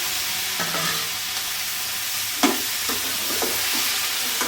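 Tomatoes frying in hot oil in a pan for a peanut chutney, a steady broadband sizzle with a few louder crackles and spatters midway, heard alone without voices.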